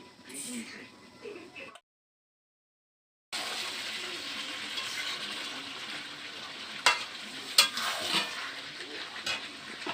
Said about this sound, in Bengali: দেখো আর একটু হলেই আমার চিকেনটা কষা হয়ে যাবে।